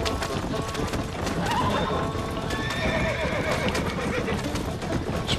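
A horse gallops during a race in the Red Dead Redemption video game, with steady rhythmic hoofbeats throughout and a couple of neighs and whinnies rising over them, fairly faint.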